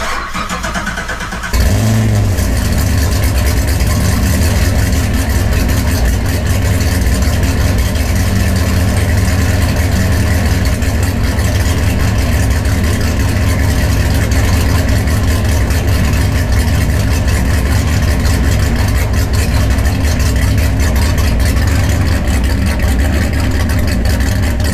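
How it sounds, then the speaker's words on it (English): Chevrolet Camaro engine cold started in cool weather, catching with a sharp loud burst after a short quiet moment, then settling into a steady, loud, rumbling idle that holds without a break. "give you guys another cold start for like the third time with it"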